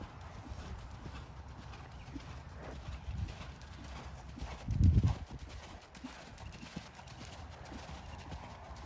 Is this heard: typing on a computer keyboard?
no